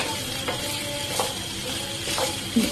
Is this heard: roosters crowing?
no